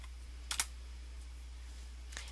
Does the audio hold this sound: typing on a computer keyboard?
yes